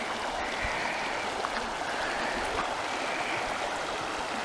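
Mountain creek running behind a campsite at Tolby Campground in Cimarron Canyon State Park, New Mexico, with a steady broadband rush of flowing water, continuous and fairly close.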